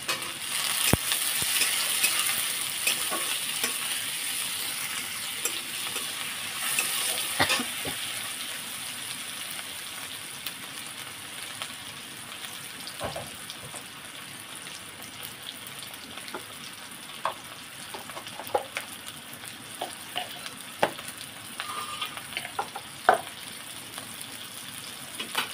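Chopped tomatoes hit hot oil with fried ginger garlic paste for a chicken puli pitha filling, a bright sizzle that bursts loudly then settles into quieter frying with scattered stirring clicks and scrapes nearby.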